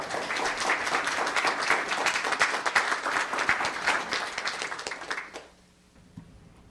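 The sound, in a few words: applause at a town council meeting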